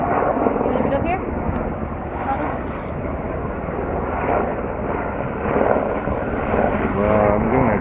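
Loud, continuous engine drone of a helicopter in flight at the Grand Canyon's Eagle Point, steady and fairly close, with a faint voice briefly audible underneath.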